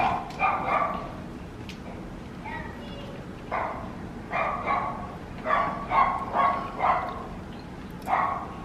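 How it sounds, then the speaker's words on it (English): A dog barks several times out in a hallway, a run of sharp, moderately loud yaps clustered in short bursts with quiet gaps between them, set in a home kitchen during cake baking. "There's also a dog in the hallway."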